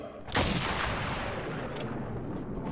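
Gunfire in the video game Realm Royale opens with a loud near burst, then settles into a dense continuous rumble of shots and battle noise, without speech.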